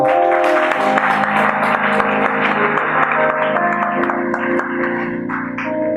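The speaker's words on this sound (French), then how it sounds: "Acclamons le Seigneur pour sa vie." A church congregation applauding to acclaim the Lord, a dense, sustained wash of many hands clapping at once, loud and close, with a ringing tone lingering underneath and easing slightly toward the end.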